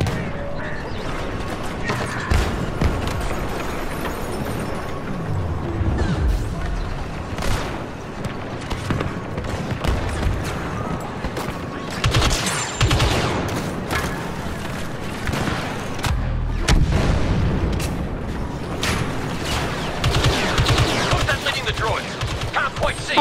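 Star Wars Battlefront II battle noise with bursts of blaster-style gunfire and heavy grenade blasts booming at intervals, dense and loud throughout, with people shouting and talking over the fighting.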